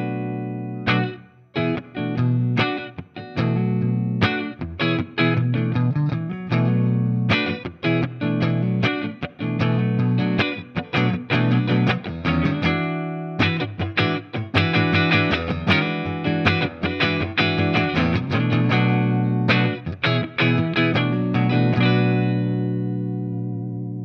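Overdriven electric guitar with a warm, rounded neck-pickup tone from a Gretsch with a Bigsby, strummed chords and riffs played steadily and loudly for the whole stretch.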